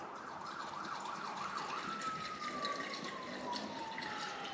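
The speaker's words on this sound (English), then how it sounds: "hopefully you can hear the sounds of Penrith with that siren in the background" A distant emergency siren in Penrith wails, first oscillating rapidly and then sliding into a long falling tone as it passes, faint against steady background noise.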